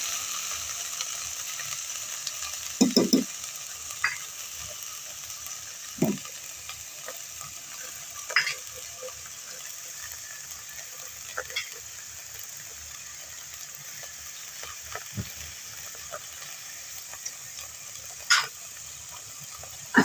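Tomatoes and spices fry in a pan for stuffed bitter gourd, a steady soft sizzle with occasional scrapes and clinks of a spoon stirring, no voices over it.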